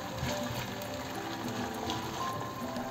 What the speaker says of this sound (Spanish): Las dejamos que se vayan friendo a fuego medio suave hasta que se queden doraditas.